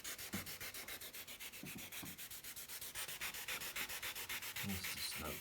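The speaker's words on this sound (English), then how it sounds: "On these areas that are completely rusted, I'm going to sand a little bit more." Sandpaper is rubbed back and forth on rusted chrome of a 1959 Olympia vintage steel bicycle. The strokes are quick, rhythmic and scratchy, close and fairly quiet, and keep going for the whole stretch with no speech.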